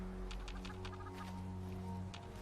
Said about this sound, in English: I'll get the chicken here for the intestine.